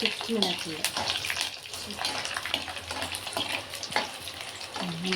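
Garlic frying in hot oil for a coconut chutney tempering, a dense continuous sizzle and crackle close up with occasional stirring scrapes and spoon taps, and a voice speaking faintly under it.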